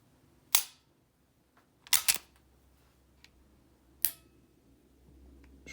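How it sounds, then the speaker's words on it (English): Springfield Hellcat pistol dry-fired: three crisp, close mechanical clicks about two seconds apart, the middle one a quick double click, each standing alone against near silence. "here's the trigger pull."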